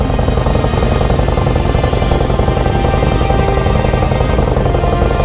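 A Harley-Davidson Low Rider ST motorcycle nicknamed Mad Max idles nearby, its engine holding a loud, steady, throbbing rumble with no pauses.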